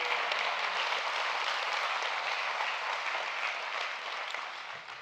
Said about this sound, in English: How about a round of applause for our musicians who are here earlier this morning?